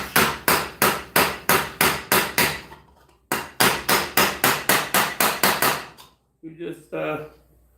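A ball peen hammer strikes metal in steady, loud, ringing blows, two quick runs of about eight hits each with a short pause between, then a few scuffing handling sounds at the end.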